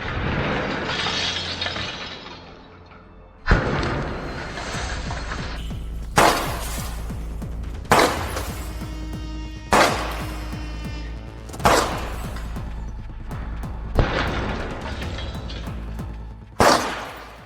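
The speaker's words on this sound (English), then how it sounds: "And now I'll show you how a breakage of the glass behaves." Tempered triple insulating window glass is struck and shattered in a burglary-protection test, with a series of six or seven loud, sharp impacts and crashes spaced a couple of seconds apart, each followed by tinkling and crackling glass.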